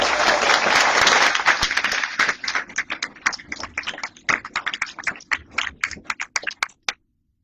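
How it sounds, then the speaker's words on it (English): Audience applause at a political meeting in a hotel function room, a dense burst of many hands clapping loudly that thins into scattered individual claps before stopping abruptly. "So please give them a round of applause."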